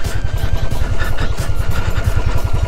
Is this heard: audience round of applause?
no